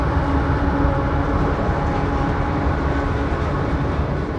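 A CSX train on the former Clinchfield Railroad in North Carolina rolls past close by, a loud, steady rumble of wheels and cars that stays constant throughout.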